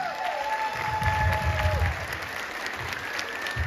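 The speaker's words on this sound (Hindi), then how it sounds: "सारे हमारे थाईलैंड क्वालिफायर्स के लिए जबरदस्त तालियां" An audience applauds in a hall for a group of Thailand qualifiers, a steady, moderately loud wash of clapping with a sustained tone and faint voices underneath.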